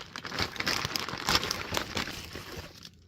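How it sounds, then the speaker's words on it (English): Close crinkling and rustling as a Galen leather goods package is unboxed and its wrapping handled, a continuous busy crackle that fades to quiet at the end. "I've got a new package to unbox."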